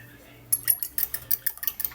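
A fork scrambling eggs and whole milk in a bowl for flan, with rapid rhythmic clinks and taps against the sides, close and crisp, beginning after a quiet moment.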